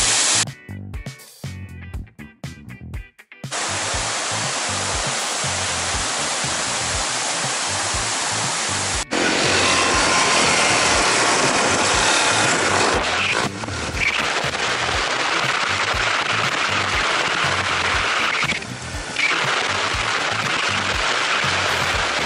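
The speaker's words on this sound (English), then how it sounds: "There's a waterfall." A jungle waterfall in Isan, Thailand, roaring as a loud steady rush of falling water that fills the scene continuously after a few brief opening knocks, with no voices.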